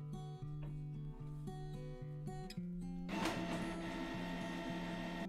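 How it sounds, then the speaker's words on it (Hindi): A Canon Pixma G3012 all-in-one inkjet printer powers on with a steady mechanical whir and stepped tonal motor sounds, changing to a denser, louder grinding whir partway through, heard close and alone. "यहाँ पे दोस्तों आपने बटन प्रेस करना है वो प्रिंटर ऑन हो जाएगा"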